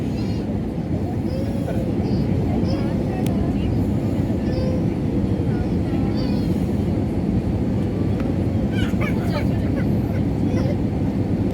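Cabin noise aboard a SriLankan Airlines flight UL 1173 from Colombo to Bangalore at about 5,000 feet, a loud, steady low roar filling the cabin throughout, with faint scattered background sounds above it.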